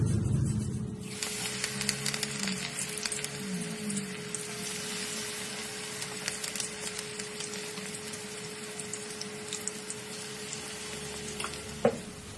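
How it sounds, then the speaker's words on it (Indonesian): Vegetable fritter batter for bakwan sayur fries in hot oil, giving a steady, close sizzling hiss that continues throughout with a faint clink near the end. "Terus nanti bisa digoreng semua sampai habis adonannya."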